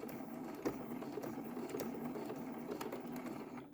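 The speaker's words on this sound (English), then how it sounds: "I'm going to stitch down and reverse back all the way" Sewing machine stitching a rainbow quilt, running forward and then reversing back along the seam in a steady mechanical whir with a few brief clicks, heard close and alone.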